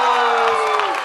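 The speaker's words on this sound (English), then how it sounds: "a big round of applause" Crowd cheering and applauding to welcome actress Janhvi Kapoor at a social event, a dense steady roar of clapping and cheers with a held tone running through it.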